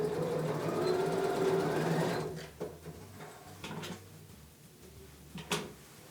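A sewing machine runs steadily for about two seconds as it stitches down a folded fabric hem on a strip for a children's headband, then falls quiet into light handling clicks and knocks.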